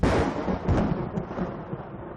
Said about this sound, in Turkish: Saatler ilerledikçe de ardı arkası kesilmeyen şimşekler ve yıldırımlar şehri aydınlattı.